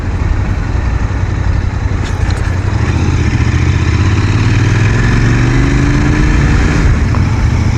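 A Royal Enfield Interceptor GT650 motorcycle engine drones steadily on a ride, loud and close, with a continuous low rumble and some road and wind noise throughout.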